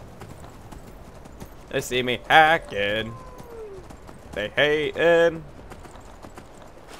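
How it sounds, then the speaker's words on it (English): Horse hooves clip-clop in the video game Skyrim as a mount runs through water, a soft rhythmic patter beneath someone talking loudly in two bursts. "Running through the water because I'm like swimming on my horse who's underwater."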